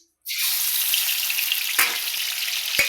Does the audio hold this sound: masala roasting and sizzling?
yes